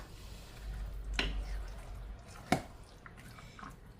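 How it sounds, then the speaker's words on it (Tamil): Mango puree poured into a bowl of mixed fruit salad, soft wet drips and a squishy splat up close, with a low background hum. "இது மேங்கோ பியூரி ஃபுல்லாக விட்டால் தான் நல்லா இருக்கும்."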